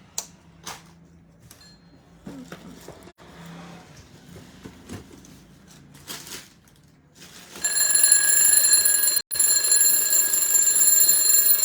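An alarm clock sold among container goods starts ringing partway through, a loud steady multi-tone electronic beeping that begins after quieter handling noises and continues to the end with a brief gap.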